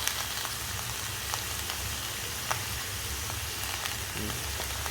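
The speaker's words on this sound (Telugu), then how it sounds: "ఉల్లిపాయలు ఉప్పు కూడా వేసేస్తే ఉల్లిపాయ బాగా మగ్గుతుంది" Sliced onions frying in a pan with turmeric and salt, giving a steady, even sizzle with light crackles throughout, close and alone.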